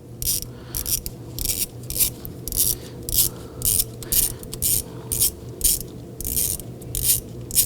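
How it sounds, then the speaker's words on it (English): Rapid bursts from a 10 mm 1/4-inch drive ratchet with an extension, clicking steadily as it turns a bolt on a 2005-2009 Subaru Legacy during a variable valve timing solenoid replacement, close and loud with no talk. "I'm going to use my 10 mil 1/4 inch ratchet,"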